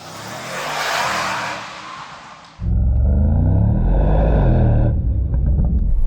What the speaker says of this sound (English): I'm going to go through this tunnel and accelerate, so you'll hear the V8 engine